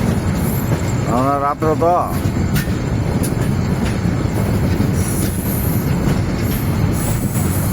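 An express train rolls into Dhaka at night with a steady rumble of wheels on rails and a brief high squeal, while people talk nearby.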